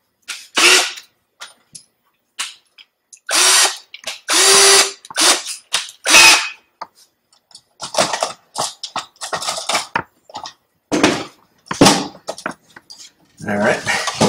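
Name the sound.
power drill tightening screws on control box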